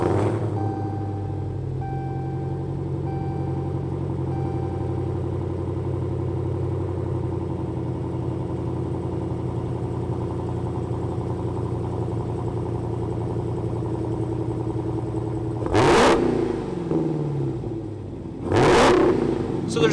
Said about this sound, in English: We're in the standard drive mode, which basically deadens the power and the exhaust, even though it's still pretty loud